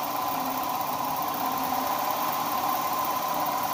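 An Allen T-120 distributor machine runs at a steady speed, a continuous close mechanical whine and hum with a faint vibrating rattle and no talking.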